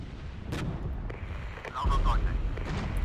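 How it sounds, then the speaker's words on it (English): Artillery fire in the Regiments video game comes in as heavy, booming blasts and rumbling impacts, loud and close, with someone talking over them. "We have artillery fire coming in."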